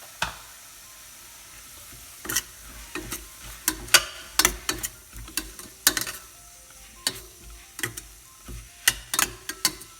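Spoon stirring sambar powder into a sizzling pan for Andhra-style dal, with a series of sharp metallic scrapes and clinks in an irregular rhythm over a faint frying hiss.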